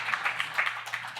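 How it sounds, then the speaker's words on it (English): Brief burst of audience applause at a panel session, a steady patter of many hands clapping at moderate level for about a second, with no talk over it. "Sorry, we can applaud."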